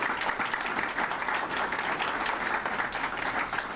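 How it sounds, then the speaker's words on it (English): Steady round of applause for honorees at an Asian Pacific American Heritage Month ceremony, a continuous, fairly distant wash of many hands clapping together in a room, with no talk over it. "another round of applause for all of our honorees today"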